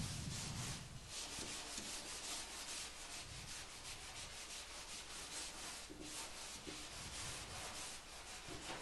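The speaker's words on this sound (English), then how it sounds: "After about another 3 minutes, we can then start scrubbing again with the strip it wool." Steel wool scrubbing paint stripper off wood, a continuous, rhythmic abrasive rubbing in close strokes with no pauses, fairly quiet overall.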